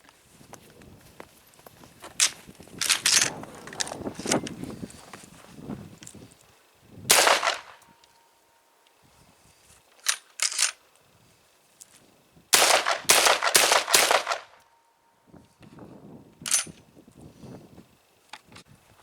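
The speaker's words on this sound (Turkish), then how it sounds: "Şimdi atış testlerimize geçelim. İlk olarak yavaşçalar trap 24 gram." An Özkanlar FX015 shotgun test-fires 24 gram trap cartridges: loud, sharp shots ring out at irregular intervals, some spaced apart and some in a quick cluster, with quieter handling noises between them.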